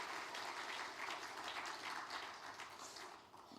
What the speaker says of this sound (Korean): 우리 권사님들 앞에 계시는데 한번 박수로 감사의 뜻을 전하겠습니다